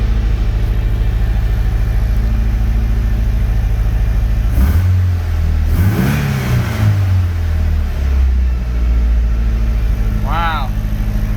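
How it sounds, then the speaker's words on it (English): Nissan S13 engine idling after a cam timing fix, then given several throttle blips: a steady low idle hum broken by quick rising and falling revs, loud and close, with a brief spoken remark near the end. "But I'm gonna give it some throttle blips."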